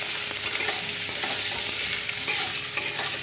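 Potato pieces sizzle in hot mustard oil in a pan while being stirred, a steady close frying hiss with scraping stir strokes throughout and no talk.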